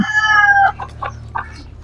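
A chicken clucks close by, a drawn-out call followed by several short, spaced clucks.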